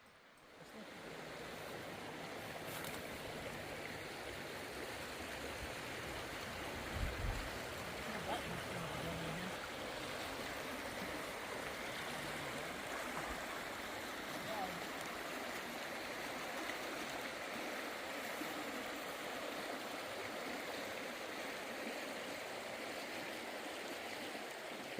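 The Cispus River runs beside a campsite near Packwood in the Gifford Pinchot forest, its water giving a steady, even rush that stays alone and unbroken for the whole stretch.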